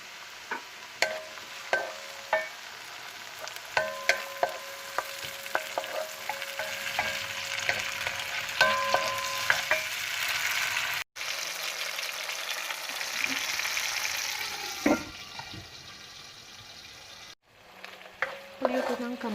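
Tomatoes cooking in a pan for fish sarciado, a steady sizzle with scattered clicks and stirring scrapes running throughout, briefly cut off twice near the end.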